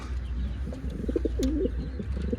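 Homing pigeons cooing inside a coop, soft repeated low coos rising over a steady background hum, close and moderately loud with a few faint chirps.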